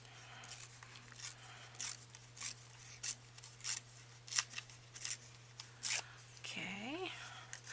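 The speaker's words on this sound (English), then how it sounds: "And while I'm tearing paper" Paper is torn by hand for a collage in a series of short, close ripping bursts with brief pauses between them, over a low steady hum, and a voice comes in near the end.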